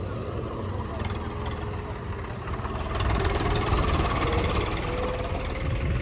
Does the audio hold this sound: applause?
no